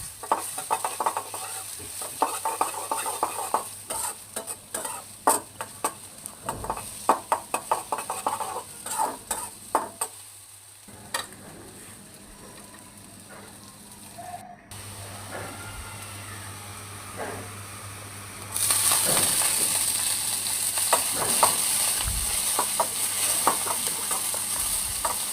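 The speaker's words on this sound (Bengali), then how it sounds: "ধনেপাতা দিয়ে ভালো করে নেড়েচেড়ে নামিয়ে ফেলব।" Onions frying in hot oil with coriander leaves, a steady sizzle under repeated scraping and stirring strokes against the pan, close and continuous, growing louder and brighter near the end.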